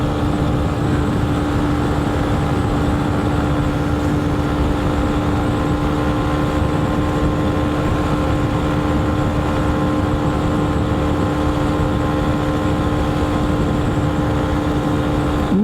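A derestricted 2023 Honda CB125F motorcycle engine held near the rev limiter while climbing uphill, a loud, steady, unbroken drone with constant pitch and wind rush throughout.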